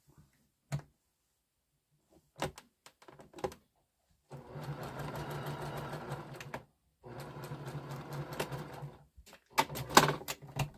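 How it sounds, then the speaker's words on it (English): A sewing machine stitches jelly roll quilt pieces in two steady runs of a few seconds each, with a brief pause between them. Scattered clicks and handling noises come before and after the runs. "Finish sewing that."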